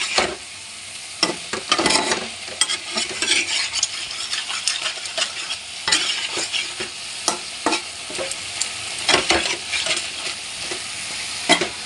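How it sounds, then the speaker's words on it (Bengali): Spice masala being stirred and fried for a broccoli curry, with a steady loud sizzle under repeated scraping strokes of a spoon against the pan, continuous and close throughout with no talking. "মশলাটাকে এবার ভালো করে কষিয়ে নিই।"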